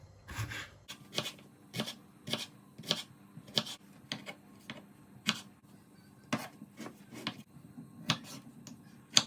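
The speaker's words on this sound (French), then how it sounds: "on va faire de petites tranches comme ça. Et on va faire ça avec toutes les pommes de terre." A knife cuts raw potatoes into thin slices for a Spanish tortilla, giving a steady series of sharp, close taps against the cutting board at a brisk, slightly uneven rhythm with no talking.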